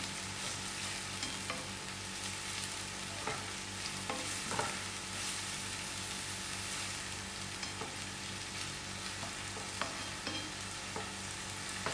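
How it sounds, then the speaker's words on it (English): Continuous sizzling of onions frying in a non-stick pan, with occasional scrapes of a plastic spoon stirring, close and steady with no talking. "While the onions are frying"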